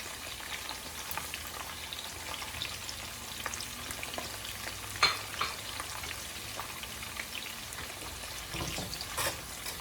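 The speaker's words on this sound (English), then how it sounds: "adding my yellow onion right in the same vegetable oil that we cooked the fish in" Carrots and yellow onion fry in vegetable oil left from cooking fish, giving a constant close sizzle with light stirring scrapes and small pops throughout.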